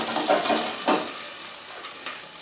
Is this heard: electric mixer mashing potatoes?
no